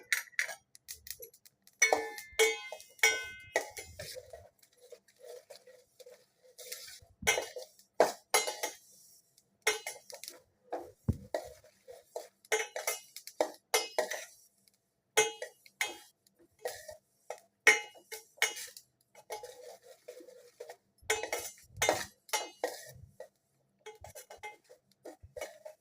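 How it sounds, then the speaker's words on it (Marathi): White sesame seeds, about 200 grams, being gently stirred and roasted in a pan, giving irregular light clinks and scraping ticks of a spoon against metal throughout, close and fairly quiet, with no talking. "हलक्या हाताने तीळ छान भाजून घ्या."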